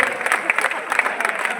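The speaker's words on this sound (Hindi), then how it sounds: "एक बार हाथ उठाकर तालियां बजाएं" An audience claps through a brief, dense burst of applause at a poetry recital (kavi sammelan) at Dr APJ Abdul Kalam Technical University, Lucknow, with a voice heard over the clapping.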